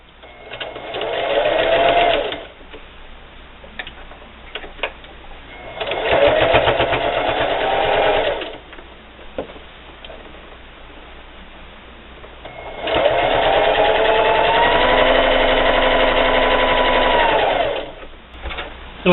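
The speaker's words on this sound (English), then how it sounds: "with a 1/4 inch seam allowance, we're just going to keep sewing." A sewing machine stitching a quarter-inch seam on a Halloween hexagon table topper, loud close whirring in three separate runs, short, medium and longer, with quiet handling between them.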